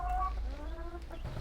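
A laying hen in a backyard poultry coop clucks close by in a short run of throaty, rising calls over a low background hum, with no talk.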